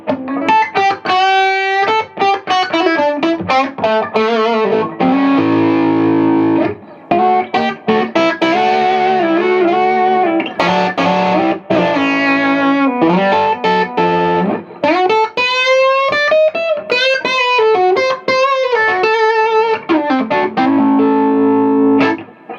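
Paul Reed Smith 58/15 Custom 24 electric guitar on its bridge pickup through a distorted gain channel, playing sustained chords and riffs, loud and continuous with a thick, saturated crunch and ringing notes.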